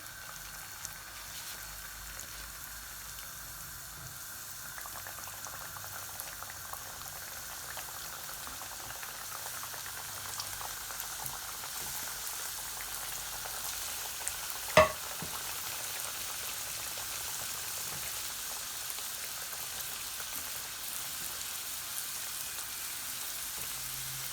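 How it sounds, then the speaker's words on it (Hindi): Samosas deep fry in hot oil in a frying pan, giving a steady, soft, continuous bubbling sizzle throughout with one brief louder clink partway through. "अब हम इन्हें फ्राई करते हैं। फ्राई पैन में मैंने तेल गरम कर लिया है।"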